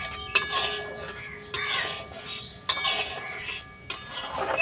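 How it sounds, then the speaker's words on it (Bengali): Utensil clinking against a pan while stirring chutney, four distinct metallic taps spaced about a second apart over a quiet kitchen background. "এবার আমি আর একটু নেড়ে নেব।"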